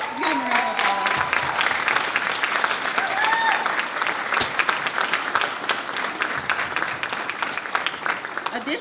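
Guests at a Black History Month community event give volunteers a long, loud round of applause, dense clapping with scattered whoops and cheers rising through it, voices murmuring underneath.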